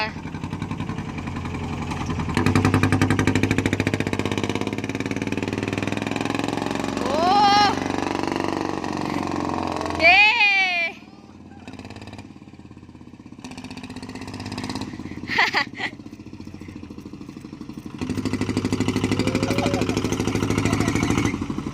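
An E-tan Thai farm vehicle pulls away with its engine running. The chugging, rattling note is loud and close and drops out briefly in the middle before resuming. Someone talks over it and gives a few squealing exclamations.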